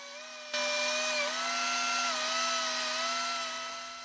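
An electric power planer shaves wooden pieces for a charcuterie board, its motor starting after a brief silence and holding a steady, close, high-pitched whine with faint wavering until the end.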